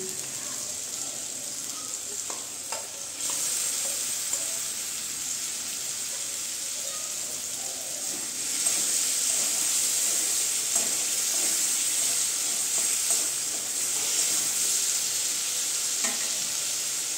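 Marinated chicken sizzles steadily in butter in a pan, a loud continuous frying hiss with occasional stirring clatter, growing busier about halfway through as the pieces settle in.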